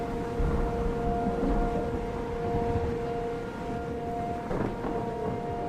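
Tornado siren in the Minecraft video game, a steady wailing tone held throughout at moderate loudness over a rumbling, stormy background, with no talking.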